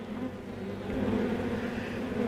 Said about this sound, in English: I fed the bees and did my usual inspection.